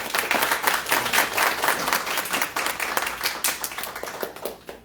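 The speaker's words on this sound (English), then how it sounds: "Can we get a round of applause for Rick, please?" A live audience at a public speaking workshop bursts into dense, sustained applause, many hands clapping loudly and steadily for about five seconds before starting to thin out.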